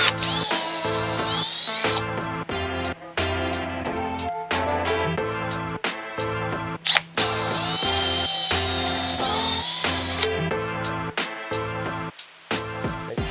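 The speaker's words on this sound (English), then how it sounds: "So now I'm just going to drill out this corner and the other side." A power drill bores holes through the corners of a front splitter lip for a Subaru BRZ STI. It runs in a loud, close series of stop-start whirring bursts of varying length, with no talk.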